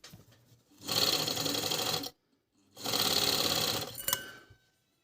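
An Agat Donlock 54D4 industrial overlock sewing machine runs in two steady, loud bursts of rapid whirring stitching, each about a second long, separated by a brief silence, with a small mechanical clack near the end and no voices.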